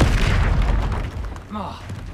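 A spell-casting effect from the Hogwarts Legacy video game, the Expelliarmus disarming charm, lands as a loud booming burst over a dense, continuous game soundscape, followed by a brief rising swoosh.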